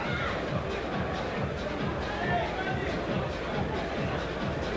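A fight crowd at a kickboxing bout roars and cheers in a standing ovation, a steady wash of dense crowd noise throughout, with some speech mixed into the din.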